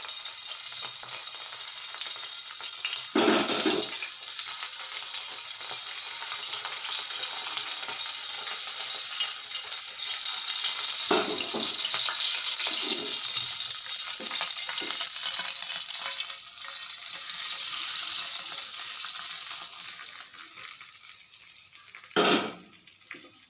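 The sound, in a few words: green chillies frying in oil for tadka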